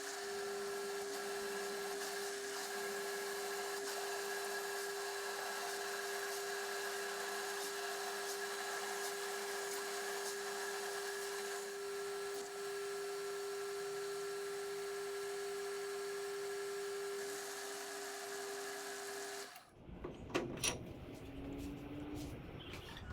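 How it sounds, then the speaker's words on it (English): A drill bores a hole out to 11/16 inch in a metal part during a bandsaw repair, giving a steady high whine with a constant pitch for about twenty seconds before it stops and gives way to clatter. "Drill that out to 11/16."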